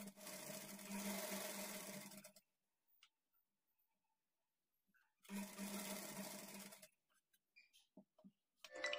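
A sewing machine stitches a high neck blouse in two bursts, each a steady rapid whir lasting a couple of seconds, with quiet pauses between them.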